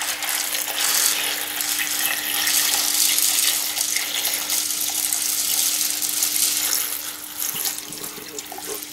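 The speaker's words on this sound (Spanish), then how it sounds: "el siguiente paso sería añadir agua" Tap water pours steadily into a cooking pot of Spanish-style lentils, a continuous splashing gush for several seconds with a faint steady hum underneath and no talking.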